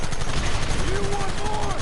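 Dense, continuous gunfire during a shootout in Red Dead Redemption, loud and rattling throughout with shouting voices mixed in over the shots.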